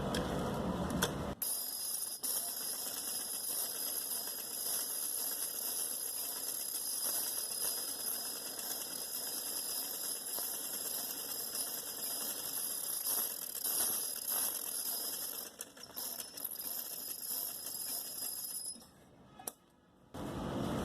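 A sewing machine runs steadily while stitching trouser fabric, a continuous close mechanical whir with fine ticking that carries on almost unbroken, easing and pausing briefly near the end.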